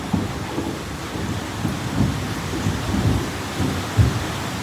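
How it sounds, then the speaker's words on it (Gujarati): Heavy torrential rain pouring down in a village during wedding season, a dense loud roar with low rumbling thunder underneath, steady and close throughout. "આ જો ગાઈસ, કેટલો જોરદાર વરસાદ આવે છે, મુસળધાર."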